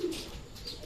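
A racing pigeon being readied for a derby coos softly, a low murmuring call at moderate distance over faint ambient background noise.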